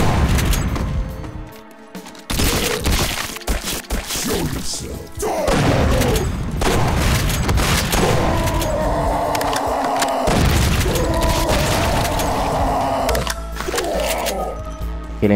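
Shotguns, rockets and explosions tear through shotgunner enemies in Doom 2 with the Project Brutality mod, loud repeated blasts and booming impacts in quick succession, mixed with grunts and game effects.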